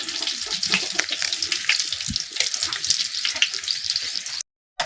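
Dry red chilies crackle and sizzle steadily in hot oil for a curry, with occasional stirring scrapes in the pan before a brief cut to silence near the end.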